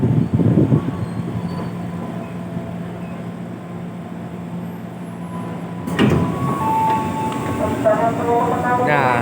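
KRL Commuter Line electric train at Bekasi Timur station, a steady low rumble with a hum running under the platform ambience, then a louder clank and a brief rising squeal toward the end; someone talks over it.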